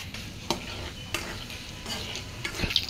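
Panch phoron spices sizzle faintly in hot oil in a wok, with several scraping stir strokes and light clinks of a utensil against the pan, quiet and close with no voices.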